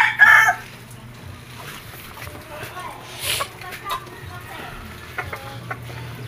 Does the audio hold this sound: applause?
no